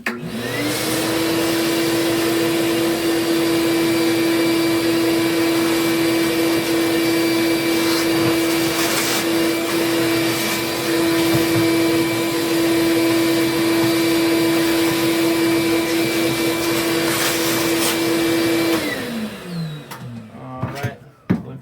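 A small vacuum cleaning the inside of a PS5 console whines at a steady pitch for a long stretch, with occasional knocks and scrapes, then winds down and stops near the end.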